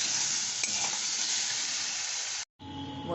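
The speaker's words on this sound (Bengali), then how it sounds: "এখন আমি একটু জল দিয়ে এটা কষে নিচ্ছি।" Mutton kosha frying in a pan with a little water added, giving a loud, steady sizzle with stirring and steam. The sound cuts out briefly and then returns as a quieter, settling fry.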